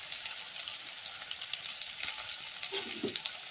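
Onions fry in a pan with a steady, close hiss and sizzle, with a few soft stirring knocks near the end as ginger and garlic go in; no one speaks.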